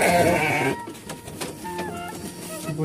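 A sturdy goat bleats loudly and close in Kampung Cimade, Desa Langkaplancar village, a wavering cry up front, followed by fainter bird-like chirps and calls outdoors.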